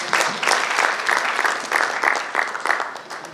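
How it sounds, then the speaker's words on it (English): An audience at a panel session bursts into loud, sustained applause, dense clapping from many hands filling the room for several seconds. "Big round of applause for all of you."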